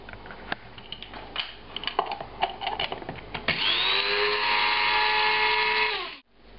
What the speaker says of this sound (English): these are all going to go into a spice grinder and turned into a powder